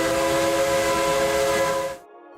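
A train in a VR zombie shooter game sounds a loud, sustained whistle-like horn with rumbling wheels beneath, holding steady for about two seconds before cutting off abruptly to near silence.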